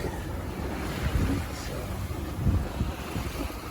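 Steady wind and breaking waves rush past a single-handed sailboat reaching in about ten and a half knots of breeze toward Cuttyhunk Island, a continuous broadband wash with gusty swells and no talk.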